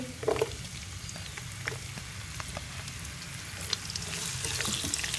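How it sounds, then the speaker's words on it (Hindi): Finely chopped onions frying in a pan toward golden, a quiet continuous sizzle with scattered crackles and light stirring taps, close-up with no speech. "और इन्हें हल्का सा गोल्डन कलर आने तक फ्राई कर लेंगे।"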